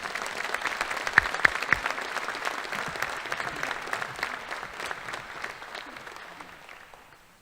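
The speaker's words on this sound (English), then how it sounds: "Let's have another round of applause for the top 25." A school audience at an academic top-25 awards ceremony applauds warmly, a few sharp claps standing out early as steady clapping fills the room, then gradually fades out over about seven seconds.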